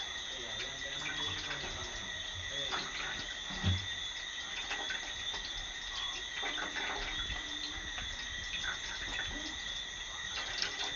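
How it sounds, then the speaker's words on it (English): Water is poured onto grated coconut and squeezed by hand to press out coconut milk, making soft, close wet squelches and trickles over a steady background hum. "Just add some water to it. Alright, and then we are going to squeeze it like this."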